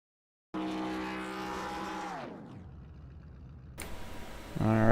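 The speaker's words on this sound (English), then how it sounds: "while we're watching that 17 do some burnouts here" A race car in an 87 Cup Series racing video game revs hard and holds a loud droning engine note during a burnout, then the pitch drops away before a screeching tire noise and renewed revving.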